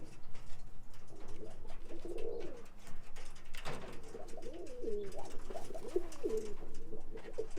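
Roller pigeons coo in repeated soft, throaty phrases close by, over a constant background rumble of wind or noise, with no talking.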